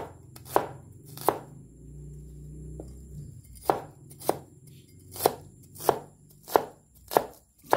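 Onions chopped with a knife on a cutting board, about ten crisp, evenly spaced thuds after a brief pause, close and distinct, with no one speaking.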